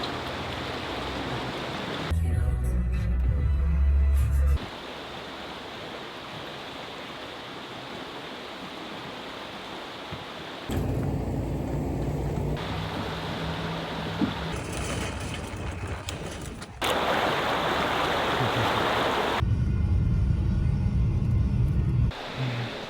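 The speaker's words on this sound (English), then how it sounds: "it's raining" Rain falling steadily outside a car on the drive to a grocery store, a constant wash of hiss with bursts of louder, rougher noise that come and go.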